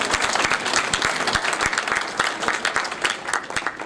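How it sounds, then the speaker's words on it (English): A crowd at a Manchester business award celebration applauds, dense sustained clapping from many hands, fairly close and even for the whole stretch. "that deserves an applause"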